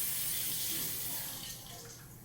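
Tap water runs steadily over a denture being rinsed in a dental setting, a loud continuous hiss that eases slightly toward the end, with no talking.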